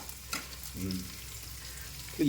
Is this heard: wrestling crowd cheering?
no